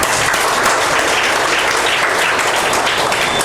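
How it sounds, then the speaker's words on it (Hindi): Children applauding together in a classroom, a dense, steady burst of clapping that stays loud and even for a few seconds. "ताली बजाइए।"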